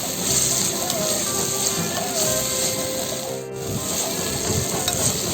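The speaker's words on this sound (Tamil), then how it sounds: "நல்லா கொஞ்சம் நேரம் வதங்கட்டும்" Finely chopped carrots and beans sauté with softened tomato in a pan for an idli cutlet filling, giving a steady loud sizzle with occasional stirring scrapes throughout.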